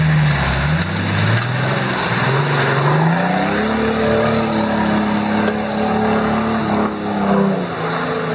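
Nissan Navara 4WD with no lift and bald tires climbing an off-road line: the engine strains loud and close, its pitch rising and falling as the throttle works, with tire and gravel noise underneath.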